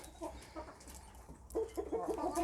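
Newly bought chickens of new breeds cluck close by, a run of short repeated clucks that grows busier and louder toward the end, with no talking.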